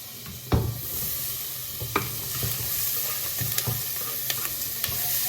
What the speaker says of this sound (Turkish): Soğan, kırmızı biber, yeşil biber kavuruyorum.